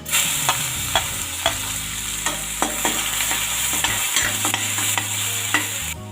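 Chopped garlic sizzles in hot oil with bay leaf and curry leaves as a spoon stirs and scrapes the pan in repeated sharp strokes over a continuous frying hiss, close and fairly loud.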